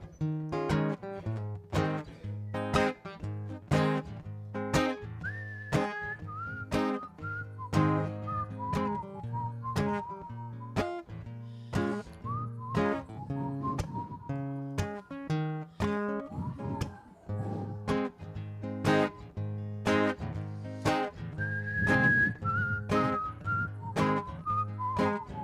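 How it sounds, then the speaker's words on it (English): Whistled melody carried over a steady accompaniment with a pulsing beat at a church service, the tune bright and prominent throughout, while the beat stays regular underneath. "I'd like to welcome you to wet your whistles and join along if you feel compelled."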